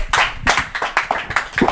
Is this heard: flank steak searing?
no